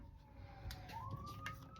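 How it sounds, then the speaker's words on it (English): Emergency vehicle siren wailing faintly in the distance outside, a single rising tone drifting past behind quiet room ambience. "Oh, there's sirens."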